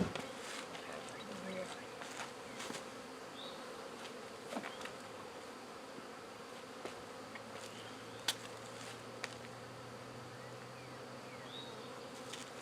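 Honeybees buzz steadily around a hive being installed, a dense, continuous insect drone holding at a moderate level throughout, with a few soft clicks and handling knocks and no talking.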